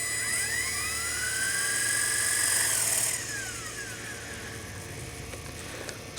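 An RC helicopter rotor whines steadily and loudly up close, its pitch sweeping as the throttle comes up in normal mode, a continuous high mechanical drone that eases back slightly toward the end.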